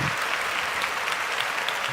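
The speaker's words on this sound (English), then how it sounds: "round of applause to Dino" A round of applause for a football player, steady dense clapping from a group sounding moderately close and continuous.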